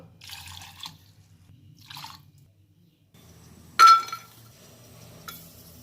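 Water is poured and dripped into a pot of Karnataka-style rasam with garlic, tamarind, curry leaves, green chillies, toor dal, tomato and turmeric, in a few soft splashy bursts followed by one sharp metallic clink.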